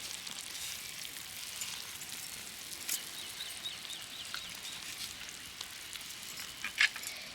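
Sugar syrup boiling in a pan for mango pickle: a faint, steady bubbling hiss with scattered small pops and crackles, soft and continuous throughout.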